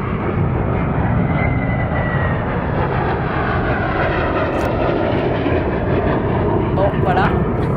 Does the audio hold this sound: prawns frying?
no